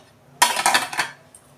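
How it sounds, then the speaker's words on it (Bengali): A lid is set down on a cooking pot of rice, one sharp metallic clatter followed by a brief rattling settle, close and clear in a quiet kitchen. "এই যে আমি ঢাকা দিচ্ছি।"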